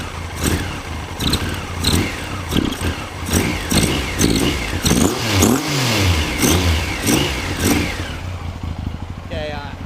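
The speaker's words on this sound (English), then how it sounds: "the bike sounds like it's just sucking in so much air through these carbs" A motorcycle engine revs in repeated bursts close by, its carburetors sucking in air with a chirping intake note over a steady idle rumble, while a voice talks over parts of it.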